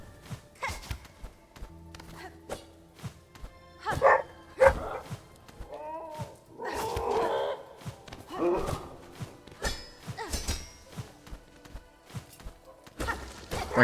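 A dog barks in the background, a scatter of short barks and yips with a few whimpers, fairly faint and irregular, mixed with clicks and other sounds from a video game.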